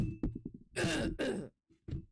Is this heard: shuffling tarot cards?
no